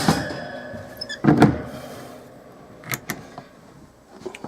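Pull-out cabinet racks in a 1995 Swift Corniche four-berth touring caravan slide and knock with a few close, sharp thunks and rattles between quieter pauses.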